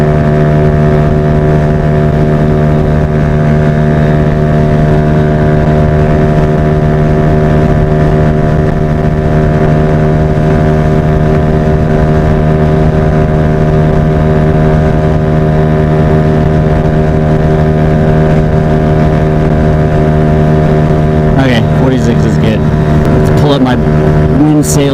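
A Honda Ruckus scooter engine drones steadily at high revs for the whole stretch, loud and close with strong engine harmonics and constant wind rush, and a brief change near the end.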